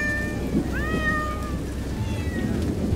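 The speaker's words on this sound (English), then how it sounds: "We will be recording some of these darling meows." A cat meows a few times on its vaccination day, upward-curving cries standing out clearly against steady rain-like background noise.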